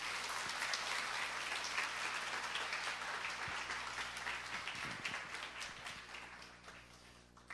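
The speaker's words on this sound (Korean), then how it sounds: "박수로 환영해 주시기 바라겠습니다." A church congregation gathered for a worship service claps in welcome, a broad wash of applause that holds steady and then slowly tapers and thins toward the end.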